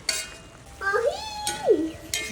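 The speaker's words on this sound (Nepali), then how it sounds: "फर्काइ मजाले चलाएर पकाउनु पर्दछ यसलाई।" Goat meat being stirred in a cooking pan, with short scraping and sizzling bursts of utensil against metal, moderately close and at a modest level, mixed with brief voice-like tones.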